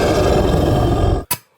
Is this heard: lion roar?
yes